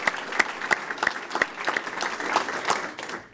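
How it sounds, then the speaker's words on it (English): An audience at a US Army NCO induction ceremony in Natick, Massachusetts applauds with a steady run of clear, fairly close claps that taper off toward the end. "Give her a round of applause there."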